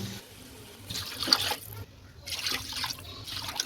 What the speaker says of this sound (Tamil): இதுக்கு மூன்றரை உலக்கு தண்ணி நம்ம சேர்த்துக்கலாம்